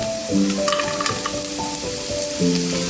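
Cashews frying in hot oil for dal tadka, a steady close sizzle with stirring scrapes and clinks of a spoon running through it.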